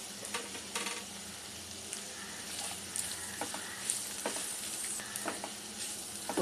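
Chopped carrots, peas and cashews for a carrot pea pulao sizzle steadily in a pan after fresh coriander goes in, a close continuous crackle with light stirring scrapes and no talk.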